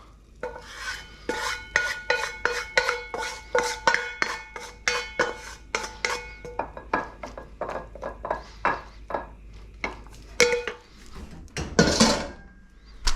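Cooked spaghetti aglio olio with fried shallots and parsley is scraped and tossed from a metal pan into a bowl, a busy run of utensil clinks and scrapes against cookware, close and steady with no talking.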